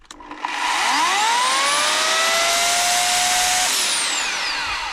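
An electric chainsaw starts for the first time and whines up to speed, a loud, steady high-pitched motor drone that holds at full speed before its tone begins to fall away.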